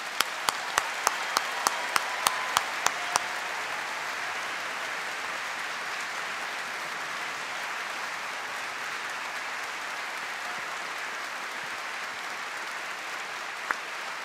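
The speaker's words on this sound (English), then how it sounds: "let's give these new graduates a big collective round of applause." An audience at an engineering graduation ceremony applauds the new graduates, a soft, steady wash of many hands clapping heard from a distance, with a few sharper nearby claps at the start.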